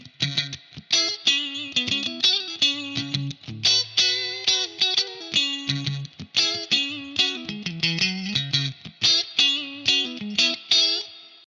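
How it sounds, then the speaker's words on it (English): A PRS Silver Sky electric guitar plays through a 2-Rock Custom Reverb amp into a closed-back 4x12 cabinet with a clean tone, carrying a steady run of plucked chords and melodic notes for about eleven seconds with no voices. "This is my PRS Silver Sky going into my 2-Rock custom reverb out into the aux box"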